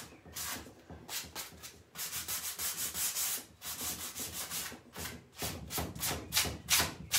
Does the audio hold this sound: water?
no